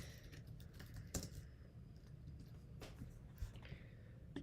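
Typing on a computer keyboard during a live sports talk stream, a soft run of scattered key clicks with a few sharper taps, fairly quiet and close under a steady background hum.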